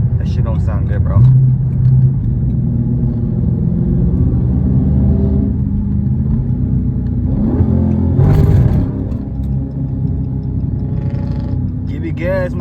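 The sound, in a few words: Dodge SRT car engine revving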